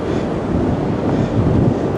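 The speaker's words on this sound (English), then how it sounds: "it's too windy here that the bridge is also swinging very fast" Strong gusty wind buffets the microphone at a swaying suspension bridge in New Zealand's Hooker Valley near Mount Cook, a steady loud roar with no voices.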